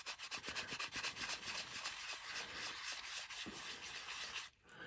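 A decorated coaster surface is scuffed up by hand with rapid, rhythmic rubbing and sanding strokes, close and scratchy, pausing briefly near the end.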